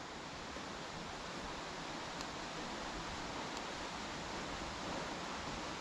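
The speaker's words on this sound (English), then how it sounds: "You hear the water at the bottom" Steady broadband rushing of the River Wansbeck running below a steep bank, continuous and even throughout, with no other sounds standing out.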